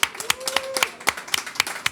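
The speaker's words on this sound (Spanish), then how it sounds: "Así que un aplauso para él." A small group claps at an anniversary event, sharp, separate hand claps in an uneven rhythm, fairly close and loud, with a faint tone briefly underneath.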